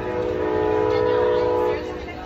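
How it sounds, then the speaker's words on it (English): Train passing nearby with a loud, sustained horn-like drone and rumble that fades slightly at the end, heard alone without talk. "You can hear the train."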